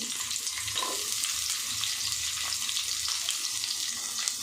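Thickly cut onions fry in a spoonful of oil in a kadai on a stove, making a continuous close crackling sizzle with small irregular pops throughout and no speech.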